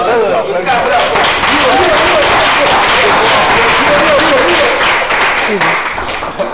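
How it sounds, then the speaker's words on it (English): A crowd breaks into loud, sustained applause at a gathering, thick continuous clapping close and full that tapers slightly near the end. "Let's clap it up for"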